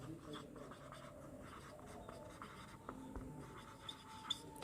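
A pen or marker scratches across a board in short strokes, soft and close, with brief pauses between the bursts of writing and no voice over it.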